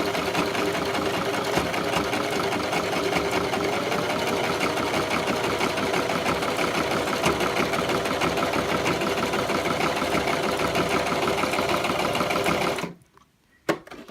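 Sewing machine stitching rickrack onto fabric with a zig zag foot, running as one loud, steady, rapid whir for about thirteen seconds close up, then stopping abruptly with a final click.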